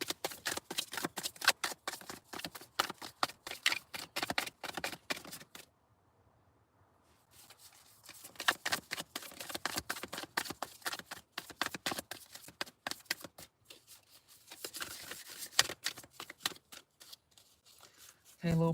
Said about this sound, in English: Okay, a little pre-shuffle.